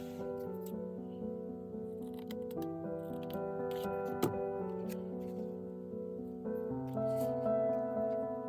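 Scissors trim a scrap of coffee-dyed crocheted lace with a few light, crisp snips, faint and close, over soft sustained background music.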